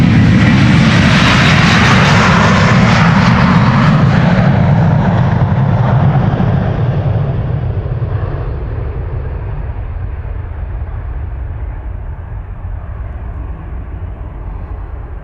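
A Delta Airlines Airbus A330 jet departs from Amsterdam Schiphol Airport, loud and close at first with a broad roaring rush, then fading steadily into a lower rumble as it climbs away.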